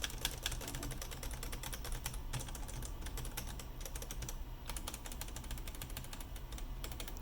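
Fingers type on a numpad with 3D printed mechanical switches, giving rapid, irregular clicky keystrokes, close and fairly quiet, heard alone without speech.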